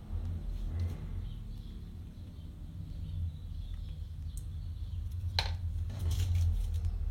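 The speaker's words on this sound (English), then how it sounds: "There's also lots of traffic noise, I'm afraid, in the background." Steady low road traffic rumble fills the background, with a few faint chirps and clicks over the continuous hum.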